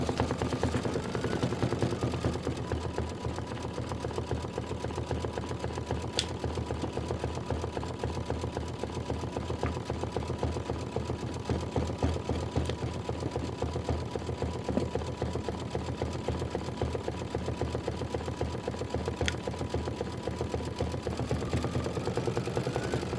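An embroidery machine stitches a satin outline and stalks on a quilted tile. Its motor hums steadily and evenly throughout at a moderate level, close by, with no speech and no breaks.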